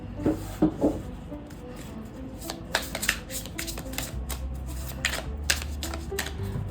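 Tarot cards being shuffled at close range, with soft papery riffles and sharp flicks clustering in short bursts over a low steady background hum, and no one talking.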